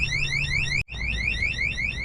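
A small electronic alarm inside an RV fifth-wheel trailer sounds loud and close in a rapid, repeating warble of chirps, briefly cutting out for a moment before resuming.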